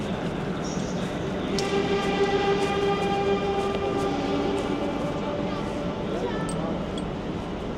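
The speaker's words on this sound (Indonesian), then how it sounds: "ini kan keretanya lagi posisi disambung" A EuroCity passenger train (EC 14) stands at a Milan station while its cars are coupled, with steady metallic squealing tones over a constant rumble of station noise and faint voices in the background.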